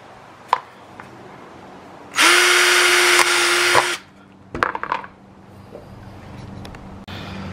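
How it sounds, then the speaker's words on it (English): A power drill whines steadily for nearly two seconds while boring a hole, followed by clattering handling noises and quiet pauses. "just a couple holes. Just drilled another. And one more."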